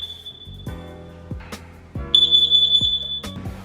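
A household smoke detector under test gives a shrill, piercing electronic beep, heard once at the start and then again louder and sustained, with clunks and knocks of handling around it in a quiet indoor space.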